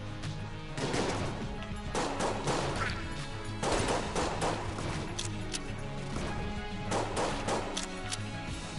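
Enemies shooting in Enter the Gungeon, with rapid bursts of sharp gunfire and impact cracks repeating in clusters over a busy, continuous game background.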